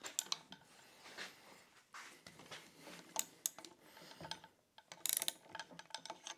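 Ratchet wrench torquing engine bolts on a Polaris Sportsman 570 engine during a rebuild, with bursts of quiet clicking ratchet strokes separated by brief pauses.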